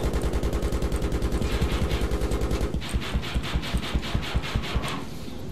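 Rapid automatic cannon fire from an attack helicopter in Battlefield 3, a dense continuous burst for about three seconds, then slower, distinct heavy shots spaced out over a steady engine drone.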